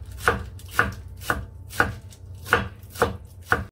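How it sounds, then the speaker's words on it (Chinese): Steady, rhythmic chopping of vegetables with a knife on a board, seven crisp close strikes about half a second apart, alone over a faint low room hum. "切幼佢"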